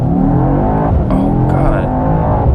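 A 2021 Mercedes-AMG E63 S sedan's engine held at high revs on launch control, a loud, close, steady roar with rich droning harmonics that never lets up.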